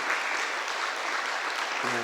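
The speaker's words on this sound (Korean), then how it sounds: "우리 목사님 힘내라고 박수 한번 쳐드립니다." A church congregation claps for its pastor during an evening New Year revival service, dense steady applause filling the room for about two seconds.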